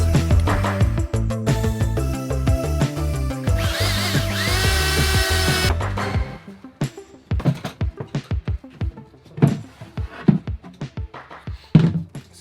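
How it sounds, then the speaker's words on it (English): A power drill whines loudly at close range for about six seconds, drilling a hole in a plastic bucket, its pitch rising as it bites, followed by scattered knocks and clatter. "Drill the hole in the pee bucket"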